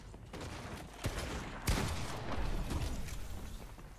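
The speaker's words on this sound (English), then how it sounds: "you're just going to spam shotguns and SMGs" Shotgun and SMG fire rattles in Fortnite, with scattered sharp blasts and a heavier boom near the middle. The shots are moderately loud over a busy background of rapid, uneven firing.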